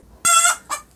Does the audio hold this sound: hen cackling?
yes